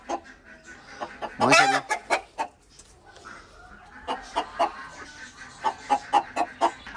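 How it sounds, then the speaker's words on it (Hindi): Desi chickens clucking at close range, a sharp squawk followed by a rhythmic series of short clucks, with someone speaking briefly over them. "चेक करेंगे ये हमारी देसी मुर्गियाँ"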